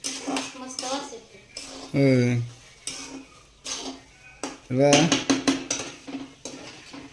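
Carrot halwa being stirred and mixed in a pan, with repeated scraping and clinking of a spoon against metal, close by, while a person talks throughout.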